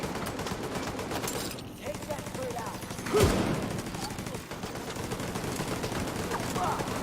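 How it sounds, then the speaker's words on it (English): A deployed turret firing at enemies in The Division 2, bursts of rapid gunfire layered with other shooting and a sharp loud shot midway, dense and close under game effects. "my turret is shooting them up nicely"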